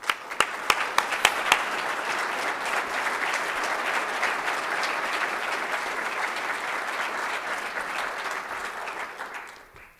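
Sustained audience applause fills a university State of the University address hall, opening with a few sharp distinct claps before swelling into steady, dense clapping that holds for several seconds and then fades out at the end.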